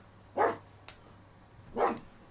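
A dog barks indoors, two sharp, loud barks spaced more than a second apart, with a brief click between them and no talking.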